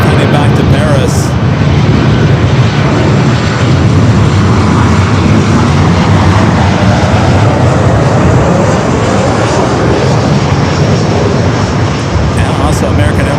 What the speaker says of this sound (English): Air France Flight 25 heading back to Paris.